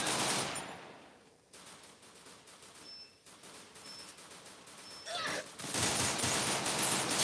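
Bursts of rapid automatic gunfire and scattered shots from the video game Free Fire crackle through a dense, busy mix, easing briefly in the middle before swelling loud again toward the end.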